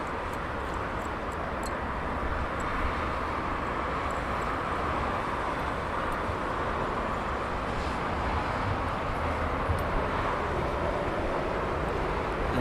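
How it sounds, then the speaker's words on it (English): Turkish Airlines Airbus A350 airliner landing on runway 27 left at Heathrow Airport, heard as a steady, broad jet roar that holds at a moderate distance for the whole stretch, with no talk over it. "Turkish 350 landing on 27 left"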